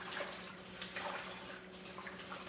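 A hand swishes freshly harvested garden vegetables around in a basin of water, giving soft, irregular sloshing and dripping splashes up close without any talk.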